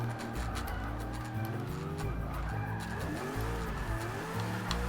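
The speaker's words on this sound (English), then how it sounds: "190 miles an hour in a Pontiac Aztek." Pontiac Aztek engine droning at high speed near 190 mph on a runway, a steady loud roar with shifting pitch and wind noise running throughout.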